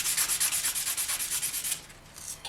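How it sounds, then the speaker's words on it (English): A polymer clay earring is sanded by hand in quick, even back-and-forth strokes, a close scratchy rasp repeating about seven times a second before slowing and stopping. "So you'll sand the front, you will also sand the sides,"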